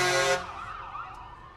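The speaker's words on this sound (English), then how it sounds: "All the sirens and horns and everything else." A siren from an emergency vehicle in the Abingdon Kiwanis Christmas Parade wails loudly and close for a moment, then cuts off abruptly into a faint echoing tail.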